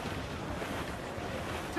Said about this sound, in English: Wind is picking up nasty!